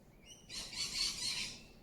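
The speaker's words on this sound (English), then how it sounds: "And those birds are singing." Birds sing and chirp outdoors, a soft, continuous high twittering that swells in after a brief quiet start and carries on, fairly faint and distant, with no talking.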